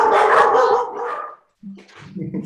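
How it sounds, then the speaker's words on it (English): Several dogs bark loudly in quick bursts near the microphone, then a short yip and a softer whimper follow after a brief silence. "I apologize. I got some dogs."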